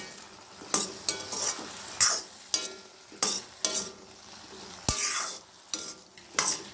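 A spoon stirs eggplant frying in a pan, scraping and clinking in a steady rhythm of close strokes over a soft continuous sizzle.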